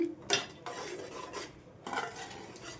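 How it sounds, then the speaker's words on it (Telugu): Chole masala being stirred into a chickpea curry in a pan, a utensil scraping and clinking against the metal in a few separate bursts, close and moderately loud, with a faint background hiss between strokes. "వేసేసుకొని మొత్తం కలిపేసుకోవాలి"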